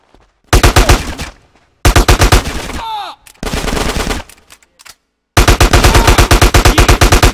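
In a shootout in GTA San Andreas, close and loud automatic gunfire comes in rapid bursts separated by short pauses. Voices are heard between the volleys, and a ricochet-like whine appears in the middle.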